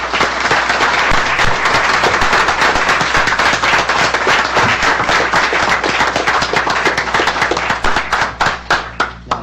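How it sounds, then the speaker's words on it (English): Dense, loud audience applause fills a school board meeting, sustained rapid clapping that thins into scattered claps at the end. "invite you all to please join me in giving a round of applause in appreciation for our facilities teams"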